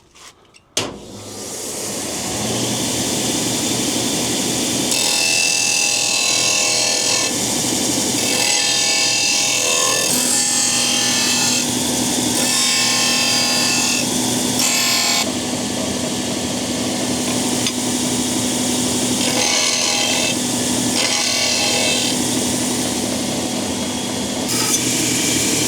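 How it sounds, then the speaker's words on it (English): Power sanding and deburring a bent metal bracket, a loud, sustained grinding whine that shifts in pitch and pressure in bursts as the tool works the edges and corners, close-up and continuous with no talk. "we'll get on to the next part, which is sanding"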